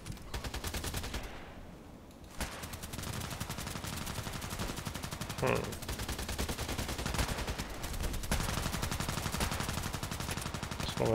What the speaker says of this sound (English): Shooting from the left.